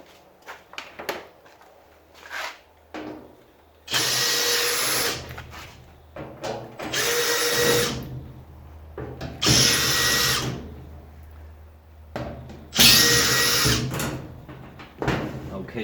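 A power drill backs screws out of the back panel of a washing machine being scrapped, four loud whirring bursts of a few seconds each separated by pauses, with someone talking between them.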